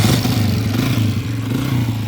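A motorcycle engine runs close by with a loud, throbbing mid-range growl, revving and easing slightly across a couple of seconds.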